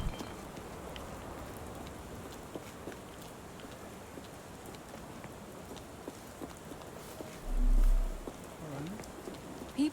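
Steady rain falls outdoors in the video game Sherlock Holmes Awakened, a soft even patter that holds for the whole stretch, with a brief low thump near the end and no talk.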